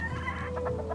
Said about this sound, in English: we've also got some pretty cool chickens just hanging with us